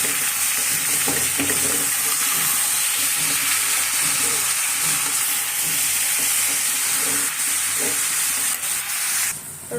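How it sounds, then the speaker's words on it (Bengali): Chopped red amaranth greens fry with browned onion and garlic in a hot pan, giving a loud, dense, unbroken sizzle and hiss with a little stirring, close up and without voices, ending with a short change near the end. "রসুন পেঁয়াজের সাথে শাকটা মিশানো শেষ"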